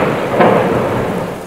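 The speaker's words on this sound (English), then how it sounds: "Rain pelted down like a cascading waterfall over the whole earth." A loud thunderstorm with heavy rain: a dense, close roar of downpour with a rumble of thunder swelling early on, no voices.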